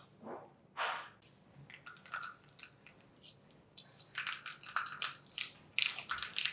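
Mustard seeds popping in hot oil for a tadka on chana dal dhokla, sputtering bursts that build from a few scattered cracks into dense, close crackling with no talking.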